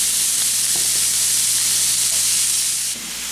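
Ground beef with onions frying in a pan, a loud, dense, continuous hiss and sizzle close by, with a faint scrape near the end.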